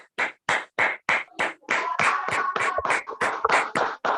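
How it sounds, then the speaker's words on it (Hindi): A group claps in rhythmic bursts at a business meeting, first as about seven short separate rounds, then merging into a denser continuous applause before breaking into sharp bursts again; close and loud, with no talking. "एक बार ताली बजा दो।"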